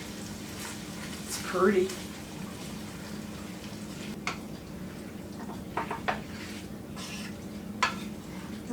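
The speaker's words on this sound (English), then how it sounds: "Now I just need to stir this up and blend it good." A spoon scrapes and stirs browned ground meat with taco seasoning in a pan, producing soft scrapes and a few sharper knocks over a low sizzle, while someone briefly speaks.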